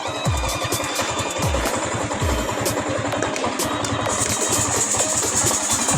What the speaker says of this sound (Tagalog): Tumahimik yung makina niya, kanina maingay kasi nga nag-overheat na